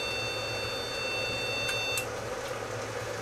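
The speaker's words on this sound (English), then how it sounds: "It just beeps." A dead computer that shows no display powers up and emits a thin, high electronic tone held for about two seconds before it cuts off with a click, over a low steady hum.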